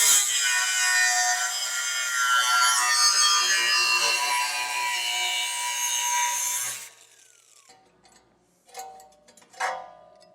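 A tool cuts around a skid plate piece on a 2025 Jeep during a base plate install, giving a steady, loud, close rasping grind for about seven seconds, then stopping, followed by a few sharp knocks.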